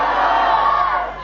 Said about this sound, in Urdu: ایک زوردار نعرے کا جواب دیو نعرہ تکبیر